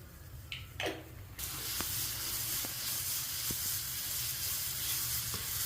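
Raw sour mango pieces sauté in sesame oil with turmeric for mango tamarind rice, giving a steady loud sizzle with a few light spoon scrapes, after a brief clatter at the start.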